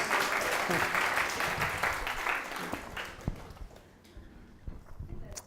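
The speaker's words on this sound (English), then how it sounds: "Round of applause for Mike" Audience applause at an interview-skills seminar, a full round of clapping that starts loud and steady, then thins out and tapers off over several seconds with scattered final claps.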